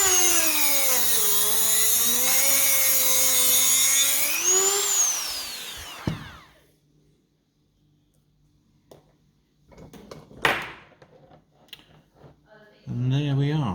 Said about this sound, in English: now I'm going to use the trusty Dremel and try and chop through the centre